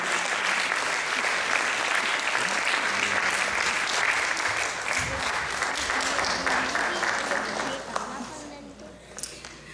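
Loud audience applause at a prize distribution for a third-place classical vocal winner, a thick sustained roar of clapping that swells and then thins out near the end, with a voice briefly heard under it.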